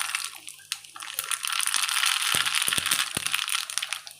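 Mustard seeds sputter and crackle in hot oil on a switched-off stove, a steady dense sizzle with sharper pops mixed in, heard close up with no talk.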